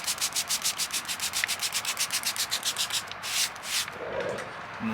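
Steady back-and-forth sanding strokes with sandpaper on an oxidized car headlight, rapid and rhythmic, close up, then a few slower scrapes and a pause near the end.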